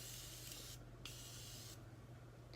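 Morphe setting spray mists out in two short hissing bursts, the first under a second, the second about three-quarters of a second, close and soft against a low background hum.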